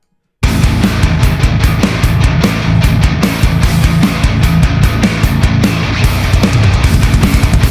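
Raw, unprocessed drum kit playback with levels balanced but no mixing applied, a dense continuous groove of kick, snare and cymbal hits played loud and steady without any voices.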